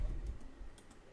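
Keys of a computer keyboard tapped a few times in quick succession while a Python string is entered, a short burst of light clicks heard close up with no talking.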